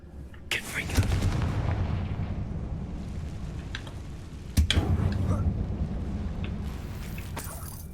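The Confringo fire blast spell cast in a mine in the Hogwarts Legacy video game: two booming, crackling bursts a few seconds apart, each trailing off into a rumbling roar over a steady low background.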